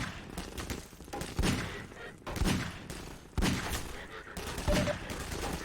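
Bursts of gunfire in Half-Life 2: Lost Coast, several loud volleys of shots and impacts arriving in waves about a second apart, close and sharp with brief lulls between.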